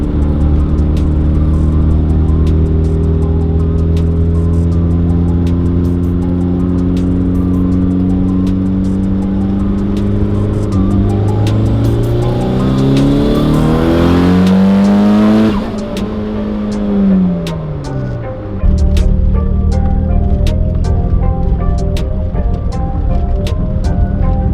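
A Mitsubishi Evo accelerates hard through the gears on a data-log pull, engine revs climbing loudly, dropping briefly at a shift, then rising again, close and powerful.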